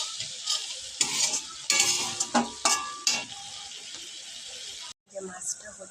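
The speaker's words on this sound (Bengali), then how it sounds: "মশলাটা কষানো হচ্ছে। মশলাটা কষিয়ে নিচ্ছি।" Spice paste is sautéed in a pan, with repeated scraping, stirring strokes of a utensil over a hissing sizzle, then a brief pause before the stirring resumes.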